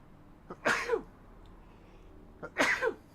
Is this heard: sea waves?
no